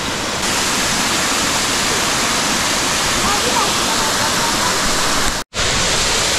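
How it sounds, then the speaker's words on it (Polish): The Szklarki waterfall gives off a loud, steady, close roar of falling water. It continues unbroken apart from a momentary dropout near the end. "Także wodospad Szklarki mamy zaliczone."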